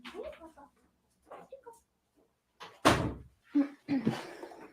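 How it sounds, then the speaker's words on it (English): A house door is opened to let dogs out, giving a single solid thunk amid scattered talking and small handling noises. "I'm gonna let my dogs out the door."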